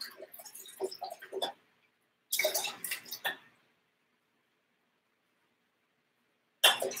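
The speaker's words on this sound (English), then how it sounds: "So I'm gonna wash off my brush, make sure my large brush is nice and clean" A paintbrush is swished and rinsed in a cup of painting water, giving soft splashing and dripping in two short bursts with a gap of near silence, then a brief final splash.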